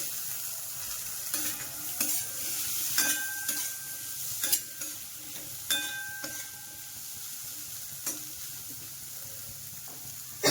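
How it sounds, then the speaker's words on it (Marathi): Drained green peas for a khari patties filling are tipped into hot oil and stirred. A steady sizzle carries clinking spoon scrapes and knocks at irregular intervals, close and moderately loud, with no voices. "आता हे निथळलेले मटार टाकूया याच्यामध्ये."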